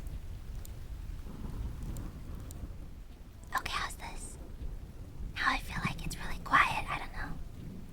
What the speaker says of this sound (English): oh, the thunder is louder than my voice